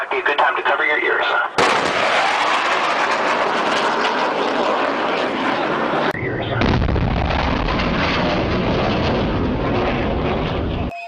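A supersonic aircraft breaking the sound barrier makes a loud, continuous jet roar with sharp, explosive boom-like blasts, cutting abruptly between intense bursts of noise.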